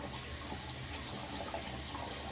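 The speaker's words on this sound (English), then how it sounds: "you add a little water to your hands" Water runs steadily from a tap into cupped hands while styling curly hair, a continuous close hiss and splash with no talking.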